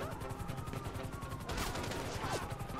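Video game gunfire, a burst of rapid shots around the middle followed by a few more bangs, fairly loud over a steady game background with no talking.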